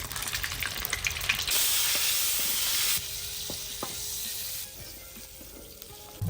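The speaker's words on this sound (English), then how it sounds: "We'll add in butter." Butter sizzles loudly in a hot pan while cooking Filipino menudo, a bright steady hiss that swells, then eases into quieter frying with scattered pops and utensil taps.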